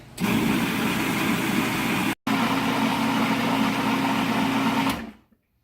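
A food processor purees cherries with a loud, steady motor whine, briefly cut off once, then running on before spinning down to silence, close and alone with no speech.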